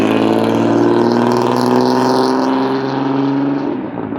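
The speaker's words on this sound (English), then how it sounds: "That guy needs his muffler fixed" A loud car with a faulty muffler roars close by, a harsh, rumbling, steady exhaust drone that holds for several seconds before easing slightly as it moves off.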